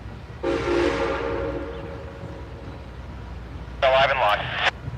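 A locomotive at the Tennessee Valley Railroad sounds a sustained horn blast, then after a pause a second, brighter shrill tone sounds briefly, over a low rumbling background.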